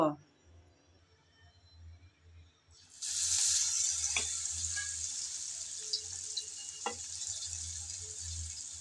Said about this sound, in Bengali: এভাবে করে একটা একটা সবগুলো ফুল আমি ভেজে নেব